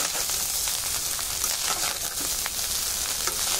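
Rice frying in oil in a small kadai, a loud, steady hissing sizzle with faint stirring scrapes, close and continuous.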